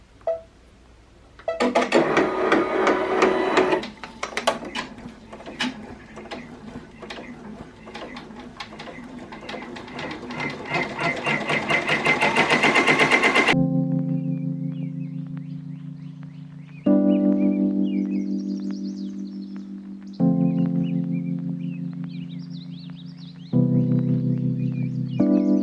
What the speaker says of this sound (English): So I'm gonna go ahead and put this on the machine.